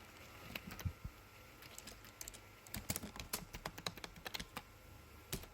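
Someone types an SQL query on a computer keyboard: close, crisp key clicks come in uneven runs, sparse at first and then quicker and denser, over a quiet background.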